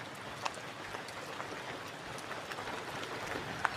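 Rain falls steadily through a forest, a soft continuous patter with a few sharper drips standing out now and then; no voices.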